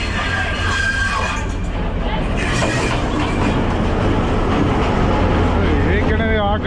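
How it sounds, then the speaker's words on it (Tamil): Train with only a few carriages arriving at a Sri Lankan railway station near Badulla, a loud steady rumble with rattling wheels beneath a murmuring crowd, and a squeal rising near the end. "அந்த ரயில் வந்து இன்றைக்கு ரெண்டு பெட்டியோட தான் வருது"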